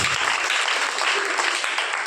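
A church congregation claps hands in praise to the Lord during a Tuesday prayer service, a dense, continuous burst of applause lasting about two seconds and heard close.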